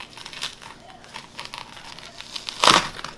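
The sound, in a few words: knife cutting through crispy roasted pork belly skin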